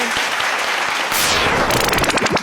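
A studio audience at a Thai children's TV game show applauds in a steady, dense wash of clapping, loud and close, with bright electronic sound-effect tones and whistling chirps rising over it in the second half.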